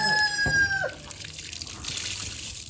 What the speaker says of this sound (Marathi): कोंबडी ओरडा लागली.